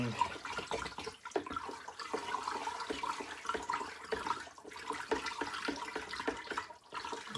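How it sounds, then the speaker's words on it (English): Water pours and splashes steadily into a batch of Ukrainian mead made with hops and wheat rusk, a continuous close, soft trickling wash with no talk. "bit more water in there"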